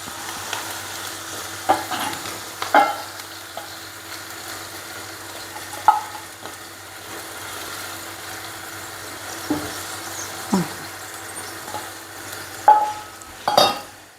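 Egg frying and being stirred in a hot pan over raised heat, a steady soft sizzle with scattered scraping clicks of a utensil against the pan, close and alone.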